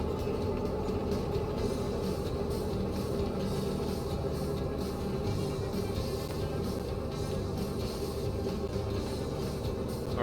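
A train rolling along in the Train Mechanic Sim 2017 game, a constant heavy rumble with a rhythmic wheel clatter, steady and close with no voices.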